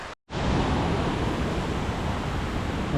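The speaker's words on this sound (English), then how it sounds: "Alright, this is the 3rd waterfall." A waterfall roars as a broad, steady rush of falling water close by, constant and loud after a brief silent gap at the start.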